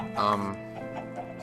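Minecraft chickens cluck in a short, loud burst, then trail off into softer clucks. A low hum runs underneath.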